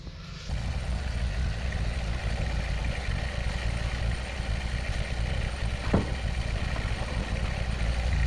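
Tractor engine running steadily while positioning a shipping container for a workshop build: a continuous low mechanical rumble and clatter at moderate distance, with one brief sharp knock partway through.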